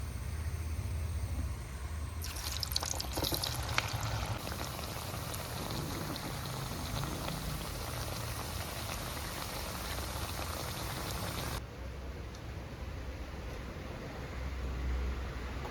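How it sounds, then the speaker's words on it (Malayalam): Vada fritters deep-frying in hot oil make a loud, steady bubbling sizzle like heavy rain. It brightens and intensifies as more batter goes in, then eases slightly near the end. "ലാസ്റ്റത്തെ വടയും നമ്മൾ ചുട്ട് കഴിയാറായി"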